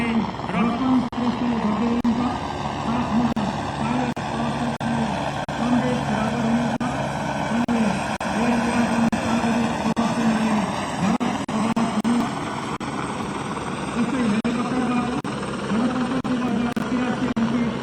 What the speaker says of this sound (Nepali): ब्यानर प्रदर्शन र पुष्पवृष्टि भइरहेको NA055 एकुरियल हेलिकप्टरको नेतृत्व